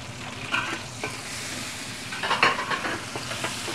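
Ginger and green onion sizzle in a hot pan while a spatula stirs and scrapes, giving a steady hiss broken by brief louder scraping bursts, with no talking.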